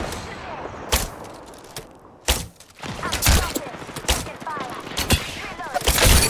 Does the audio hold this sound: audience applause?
no